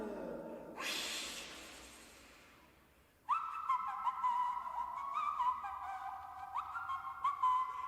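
A cheerful whistled tune with bright, sustained notes carries on for several seconds, following a breathy rush of sound at the start.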